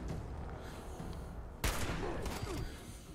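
Gunfire in Fallout 76, a sharp loud shot cracking out after quiet ambient noise, followed by a scattered few fainter shots and echoing tails.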